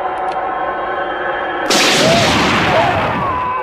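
A Knight Rider K.I.T.T. toy fires its rocket sound effect: a low electronic hum gives way to a sudden loud burst of noisy whooshing blast that rumbles on close by until the end.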